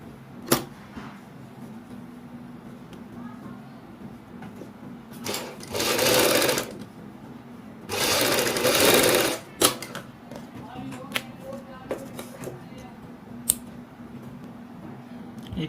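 A sewing machine stitches a peacock-design neck panel for a kurti in two short, loud whirring bursts between quieter handling noises, with someone talking in between.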